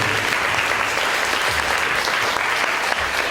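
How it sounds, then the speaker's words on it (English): A live audience at a social media marketing event claps loudly and continuously for a panel, a dense, even wash of applause heard close up for the whole clip. "Can we have a round of applause for our 3 panellists?"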